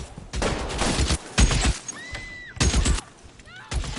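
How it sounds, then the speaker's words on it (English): Bursts of gunfire and shattering glass in the LA Noire video game, several loud broadband blasts arriving in irregular clusters, each with a quick glassy burst breaking up behind it. "can you stop shooting at glass?"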